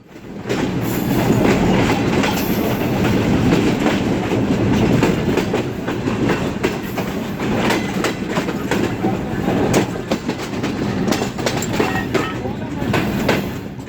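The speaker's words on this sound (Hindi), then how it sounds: "इस वक्त हमारी ट्रेन पहुंच रही है लाला मूसा जंक्शन रेलवे स्टेशन पर" A passenger train pulls into Lala Musa Junction in heavy rain, producing a loud, steady rumble with rhythmic wheel clatter that continues throughout, and faint talk mixed in.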